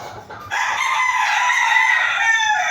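A sick golden boy sweater rooster, suffering from fowl cholera, gives one loud, close crow that rises after a brief quiet start and holds steady to the end.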